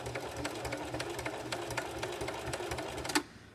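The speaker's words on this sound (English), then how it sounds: "Always backstitch, but I'm not worried about it at this very moment because I'm going to go back and forth anyways." A sewing machine runs close by while backstitching purse straps, a rapid even rattle of needle strokes lasting about three seconds before stopping abruptly with a sharp click.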